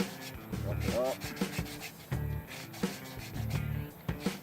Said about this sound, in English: Run some sandpaper around here, rough it up.